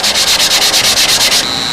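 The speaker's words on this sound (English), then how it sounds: "when you're ready to sand out your I-beam wing" Sanding a model airplane I-beam wing, a series of about a dozen loud, even back-and-forth rasping strokes close by, ending in a softer steady rub.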